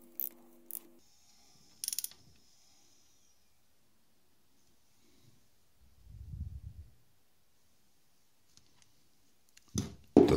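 Ratcheting mechanical clicks from a Honda CBF 1000 engine being turned over by hand toward top dead centre on the first cylinder, a few short bursts separated by pauses, with a low rumble midway and a louder clatter at the end.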